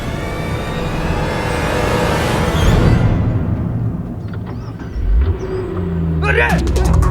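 A car engine revs and pulls away, loud at first, then thinning as it departs. Shouting voices and street clamor follow it.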